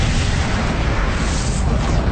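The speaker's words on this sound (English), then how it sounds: "A supernova is the colossal explosion of a star at the end of its life." Deep, heavy explosion effect standing for a supernova, the blast of a dying star, with a dense low rumble that holds steady and loud across the whole stretch, no voices over it.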